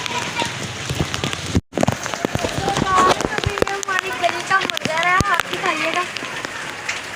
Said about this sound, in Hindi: देखिए गाइस कितनी बारिश हो रही है यहाँ पे